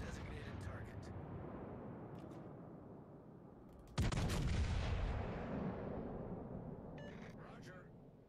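Naval gunfire in the World of Warships Legends game: a low rumbling battle bed, then a sudden loud salvo boom near the midpoint that rolls off slowly, with voices talking over it.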